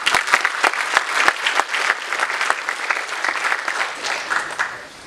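An audience at a corporate leadership summit bursts into sustained applause for the event sponsors, with dense clapping from many hands that holds steady and fades slightly at the end.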